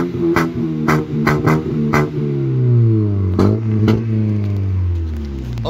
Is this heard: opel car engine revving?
yes